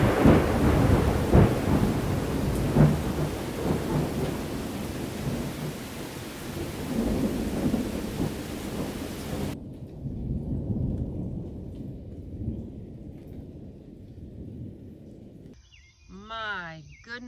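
Rolling thunder booms over falling rain, then the storm noise drops away to a soft hush before a brief voice speaks at the end.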